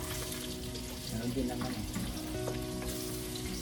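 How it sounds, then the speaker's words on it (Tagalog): Garlic, onion and ginger sautéing in a hot pan for a Filipino pork ribs dish, a steady soft sizzle with occasional stirring clatter, under a brief bit of casual talk. "Gigisa na tayo mga kalindit ng bawang, sibuyas at saka luya."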